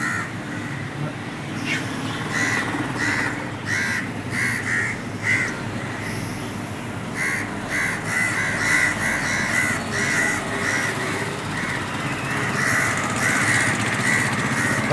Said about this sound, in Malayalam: കടൽ കാക്കകളുണ്ട് കൊക്കുകളുണ്ട്